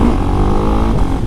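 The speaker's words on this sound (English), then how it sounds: "the engine noise itself, as with the SMCR and the Duke, it's a twin ignition, so you get a slightly different engine note from a single" A Husqvarna Svartpilen 701 single-cylinder motorcycle engine with twin ignition runs close and loud, a steady throbbing note with a slight rise near the end.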